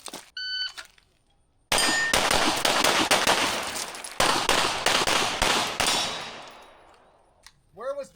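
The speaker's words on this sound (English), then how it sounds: "Where was the gap in shooting?" Gunfire on a practice shooting stage at a North Carolina class: two dense strings of loud rapid shots with a brief gap between them, followed by ringing steel and electronic timer beeps at the start and end.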